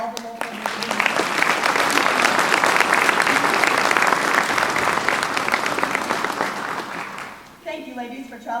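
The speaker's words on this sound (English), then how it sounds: "Let's all have a round of applause for all the local representatives." A crowd gives sustained applause for the local Fairest of the Fair royalty representatives at an evening county fair coronation. The clapping is dense and continuous for about seven seconds, then fades as a voice begins to speak.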